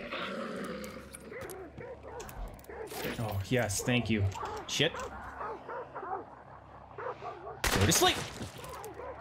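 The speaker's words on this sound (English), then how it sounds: "What's that noise? Doggos?" Hunting dogs in the video game Hunt: Showdown bark and yip in scattered bursts through the game's ambience, mixed with talk and exclamations, with a sharp loud crack near the end.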